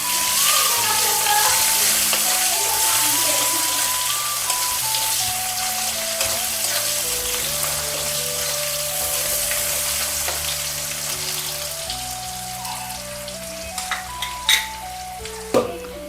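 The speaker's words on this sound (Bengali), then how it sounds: "পেঁয়াজটা একটু ভেজে নিই।" Chopped onion frying in hot oil with whole cumin, bay leaf and whole garam masala in a home kitchen, a steady close sizzle throughout with occasional stirring clatter near the end.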